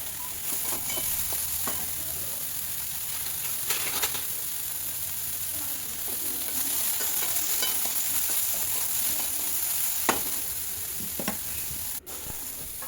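Soybeans frying in a pan with turmeric and salt, a steady close sizzle with broadband hiss throughout and occasional stirring scrapes and small pops.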